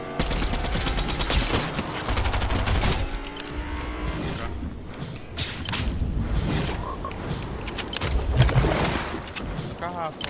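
Rapid gunfire bursts in a Fortnite public match, sharp cracks and volleys clustered in the first few seconds and again later, mixed with building noises and players talking over the shots.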